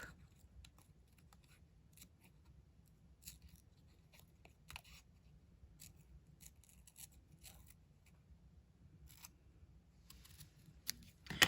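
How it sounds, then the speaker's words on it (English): Scissors snip faintly and steadily at close range as a paper stamping mask is cut out precisely, the quiet cuts set against a low background hum. "So I'm going to cut that out really precisely because this is where my stamp is going to overlap."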